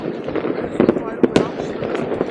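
New Year fireworks in Norway crackle and pop in a rapid, irregular series under a voice talking, the bangs sharp but not very loud.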